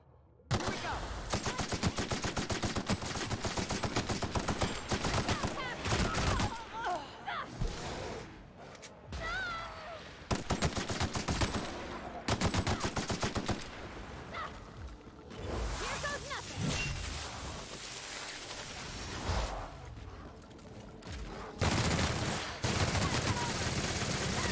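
Near-continuous rapid gunfire in The Outer Worlds, long loud automatic bursts broken by short pauses, with whooshes and game effects mixed in.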